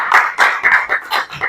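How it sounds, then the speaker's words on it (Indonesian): A church audience applauds after praise and worship, about six quick bursts of close, bright clapping in a short run, with no voices over it. "sekali lagi tepuk tangan untuk praise and worship"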